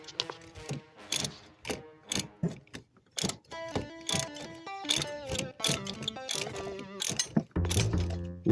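Ratchet wrench working on transmission bolts of a Chrysler 300, with repeated clicking bursts separated by short pauses, close and fairly loud, ending in a denser metallic rattle.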